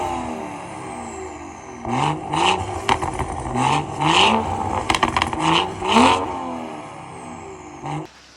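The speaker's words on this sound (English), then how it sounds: "I'm gonna input a little clip of me revving it up and stuff." A BMW 340i fitted with a Valvetronic exhaust and downpipe revs up close: a steady idle breaks into repeated sharp throttle blips that rise and fall, crackling between pulses, before settling back to idle.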